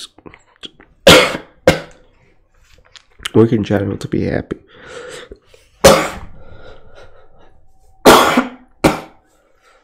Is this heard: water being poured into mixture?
no